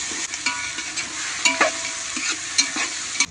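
Tomatoes tipped into a hot pan for Khandeshi khichdi fry with a steady close sizzle, broken by a few sharp scraping stirs.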